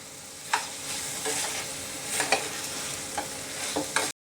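Finely chopped medium tomatoes hit a hot pan with ginger garlic paste, frying in a steady broadband sizzle punctuated by several sharp scrapes and stirs of a spoon against the pan, close and continuous.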